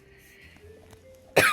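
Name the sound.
coughing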